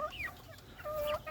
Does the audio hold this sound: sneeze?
no